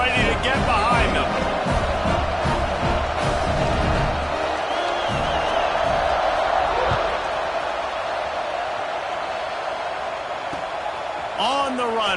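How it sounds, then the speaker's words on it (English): A football stadium crowd at kickoff keeps up a loud, sustained roar with scattered whoops and shouts. A commentator talks over it at first, and the noise eases slightly toward the end. "They're set to kick it off, and this crowd now ready to get behind them"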